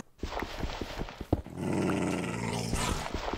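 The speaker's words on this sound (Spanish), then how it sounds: "Estúpido perro." A dog in the Minecraft video game growls in a low, rumbling snarl lasting a couple of seconds, following a few short thuds and clicks, with no talk over it.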